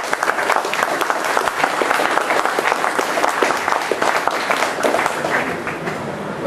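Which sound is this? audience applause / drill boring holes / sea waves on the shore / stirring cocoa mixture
audience applause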